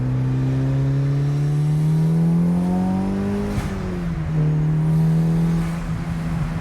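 Mitsubishi Evo 8 with an aftermarket exhaust, loud and near, its engine drone rising through a pull then easing off with a sharp crackle or pop before settling again.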